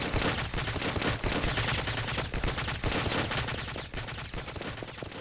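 A turret fires in the top-down shooter Otxo: loud, continuous rapid gunfire, with bursts of shots overlapping into a dense, relentless racket throughout.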